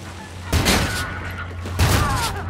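Shotgun blasts in the video game Call of Duty: Infinite Warfare, two loud booming shots about a second apart, each followed by a ringing tail over a low steady hum.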